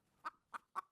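Roosters in a cockfight arena give three short, sharp clucks at a quick, even pace, heard fairly close and alone.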